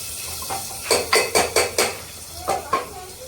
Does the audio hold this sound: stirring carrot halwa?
yes